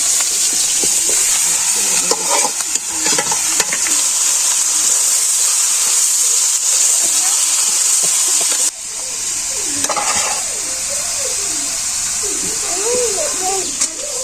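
Meat sizzles and hisses steadily in a hot pan with bay leaves in a village kitchen, a constant frying crackle running throughout with occasional stirring and voices talking over it.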